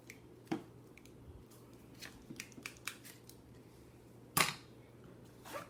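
Electrician's scissors give a few sharp, isolated snips and clicks, close and fairly faint, with one louder crisp cut near the end against a quiet background.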